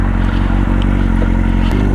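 An old sportbike motorcycle out on a ride, its engine droning steadily up close with a low, even hum, wind noise and light clatter, and a brief shift in pitch near the end.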